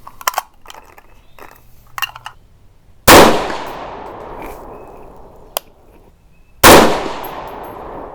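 Two sharp, loud rifle reports from a 6.5 Grendel firing Accurate 2520 powder loads, each a sudden blast with a long ringing decay, separated by a few seconds with faint handling clicks between.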